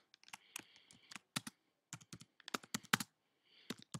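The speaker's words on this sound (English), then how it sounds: "And you can just type into the box." Keys clatter on a computer keyboard as someone types into a comic-maker text box, close and clear in short irregular bursts with brief pauses between.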